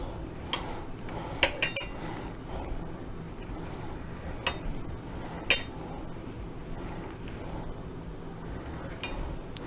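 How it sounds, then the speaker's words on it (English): A knife trims the crusts off slices of bread buttered on both sides, giving a few light clinks and scrapes of the blade against a plate or board, with a cluster of sharp taps near the start and another midway. "we're just supposed to cut the crust off"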